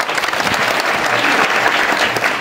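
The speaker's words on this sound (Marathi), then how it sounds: "या साऊंडवाल्या भाऊसाठी टाळी वाजवा" Audience clapping at an akhand harinam saptah kirtan gathering, dense sustained applause from a crowd filling the whole stretch.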